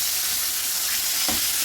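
Pointed gourd (parwal), seasoned with salt and turmeric, sautés in hot oil with a loud, continuous sizzle. A single stirring scrape cuts through near the end.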